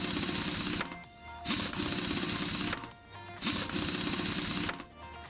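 In Car Mechanic Simulator, an impact wrench fastens wheel bolts on a Mitsubishi Eclipse Mk3 in three loud, rapid rattling bursts separated by brief pauses.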